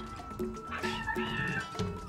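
A cat in a video game lets out several wavering meows and a longer caterwaul-like cry over busy game sound.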